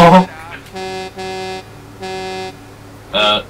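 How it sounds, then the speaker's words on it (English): A car horn in the video game GTA 4 blares in three sustained honks of about half a second each, loud and steady, separated by short gaps, with brief vocal sounds at the start and end. "Don't honk at me."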